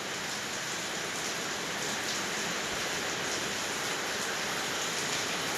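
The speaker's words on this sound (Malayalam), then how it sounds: "നല്ല മഴ, നല്ല കാറ്റ്, മഴ." Heavy rain driven by wind pours down in a steady, dense hiss that stays loud and even throughout, with no voices over it.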